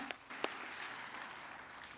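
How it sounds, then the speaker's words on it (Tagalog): A church congregation claps for God at an evening worship service: a steady, fairly faint wash of applause lasting about two seconds, with a few sharper individual claps near the start and no voices on top. "Atong tagag kusog nga palakpak atong buhi nga Dios."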